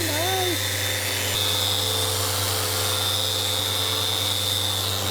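A Festool Rotex sander working over wood with dust extraction pulling the sawdust away, producing a loud, steady motor whine and whirring drone that runs unbroken from start to finish.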